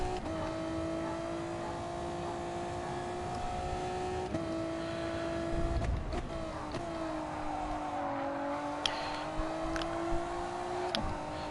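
Honda NSX race car engine in Gran Turismo Sport, a steady high-pitched howl holding near constant revs, dipping and shifting around mid-run and again later, with a few faint clicks and knocks over the continuous drone.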